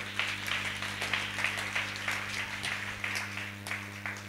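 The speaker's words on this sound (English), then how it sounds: "clap your hands for Jesus" A church congregation claps along during a healing service, faint rhythmic handclaps over a low steady hum.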